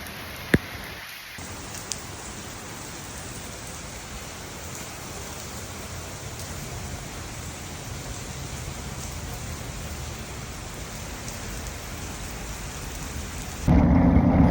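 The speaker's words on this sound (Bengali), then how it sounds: "আমি জানি না কখন বৃষ্টি থামে।" Heavy rain pours down steadily with rumbling thunder in a Sydney downpour, a dense, loud, unbroken wash that swells slightly near the end, with no voices.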